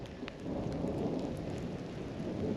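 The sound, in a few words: thunder rolling during a storm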